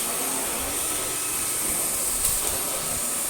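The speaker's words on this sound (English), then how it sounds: "Move the machine over to here and vacuum that way" A vacuum cleaner runs at full power, a constant loud whooshing roar with a high whine, steady from start to finish and close by, with no talking.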